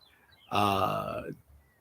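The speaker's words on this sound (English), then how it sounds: "little beautiful little bird just gave me a little quick little shout out" A small bird gives one brief, clear call nearby, lasting under a second, over faint background quiet.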